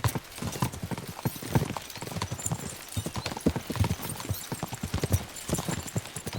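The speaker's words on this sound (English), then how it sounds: "We should spur the horses on." Horses gallop with quick, rhythmic clip-clop hoofbeats in the medieval video game Kingdom Come: Deliverance II, a steady moderate-level patter running the whole time with a faint whinny.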